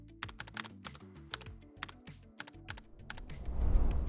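Fingers tap out a quick burst of keystrokes on a computer keyboard, entering text into a web browser's address bar; clicks come close and crisp in uneven runs, followed by a brief soft rustle.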